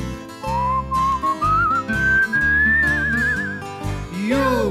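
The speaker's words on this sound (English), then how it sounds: "You'll whistle a tune, and I'll whistle a tune" Someone whistles a melody, the tune gliding upward in pitch over an instrumental accompaniment with a steady beat.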